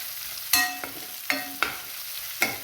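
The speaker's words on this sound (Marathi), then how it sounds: "आता त्याच्यात ना एक 4 ते 5 तिखट हिरव्या मिरच्या एकदम बारीक कापलेल्या फ्राय करून घ्यायच्या." Finely chopped hot green chillies frying in a pan: a steady sizzle under a few sharp scraping stirs of a spatula, close and fairly loud, with no talking.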